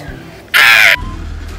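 A crow gives a single loud, harsh caw lasting under half a second, close by, against quiet background noise.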